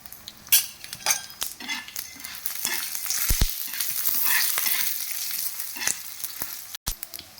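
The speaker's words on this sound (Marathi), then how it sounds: "चांगलं लाल होईपर्यंत भाजून घ्यायचा" Fish curry masala spices sizzle and crackle in hot oil on a tawa after fried onions, while a metal spoon scrapes and clinks against the pan, close and steady.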